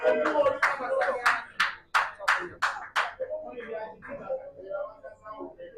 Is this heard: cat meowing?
no